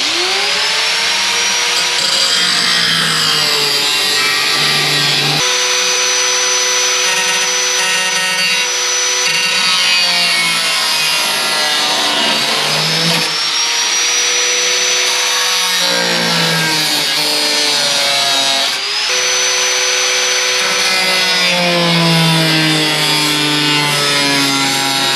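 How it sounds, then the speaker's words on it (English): A power tool cuts rusted metal out of the body of a 1958 Chevrolet Bel Air, a loud, close, sustained whine that bends in pitch as the blade loads and eases, with brief pauses between cuts. "So next step, we gotta cut this out of here. We'll cut this top part."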